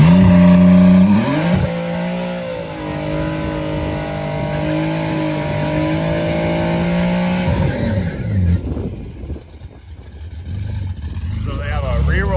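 A tuned all-wheel-drive drag race car, switched into rear-wheel-drive mode, does a burnout while prepping for TX2K: a loud, sustained high engine drone near the listener, held steady for several seconds before breaking up into rougher, scattered noise.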